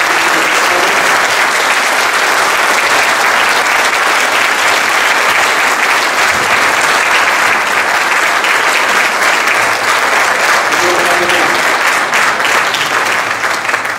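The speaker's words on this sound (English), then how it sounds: "Let's give our guests a round of applause." A large audience applauds steadily and loudly for about fourteen seconds at a talk on the Federal Reserve, with dense continuous clapping and no speech over it.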